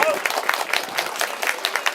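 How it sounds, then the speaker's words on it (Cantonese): Audience applause at a golden dragon eye-dotting ceremony in Ma Tin Village, Shap Pat Heung, Yuen Long, a steady patter of clapping from a crowd with no gaps. "請熱烈嘅掌聲支持我哋自己"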